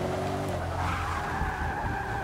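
A racing car brakes hard in Forza Motorsport 6, tires squealing in a sustained, loud screech over engine roar for a couple of seconds.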